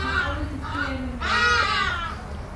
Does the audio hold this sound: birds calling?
yes